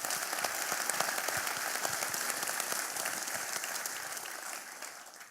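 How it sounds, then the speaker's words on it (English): A crowd at an evening lecture series applauds a guest named Mike, a soft, even patter of many hands clapping from a distance that fades slightly toward the end. "Round of applause for Mike,"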